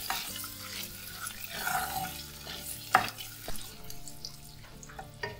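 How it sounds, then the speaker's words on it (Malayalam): Boiled eggs being sautéed in masala for a Malabar-style egg curry, a steady close sizzle broken by a few spatula scrapes and one sharp knock against the pan, with no talking. "അതൊന്ന് 1 മിനിറ്റോളം ഒന്ന് ഇങ്ങനെ വഴറ്റി കൊടുക്കാം"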